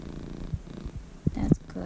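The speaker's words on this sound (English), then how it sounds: "that's quite a purr you have on you right now" A contented cat purrs softly and close by after a vet visit for teeth cleaning, a brief low rumble with a few small bumps and a louder burst near the end.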